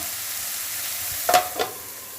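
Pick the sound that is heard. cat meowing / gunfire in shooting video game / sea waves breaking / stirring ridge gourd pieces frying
stirring ridge gourd pieces frying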